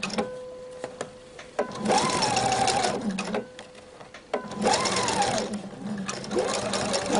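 A home sewing machine stitches the hem of a tunic shirt in two long steady runs separated by a short pause, then starts a third, loud and close, with a whirring motor and rapid needle chatter.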